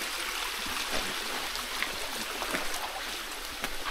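Steady broadband rush of water flowing at a waterfall, continuous and fairly loud, with small splashy accents scattered throughout and no voices.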